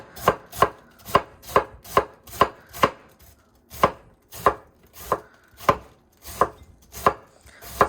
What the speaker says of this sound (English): So this piece I just started chopping a little thinner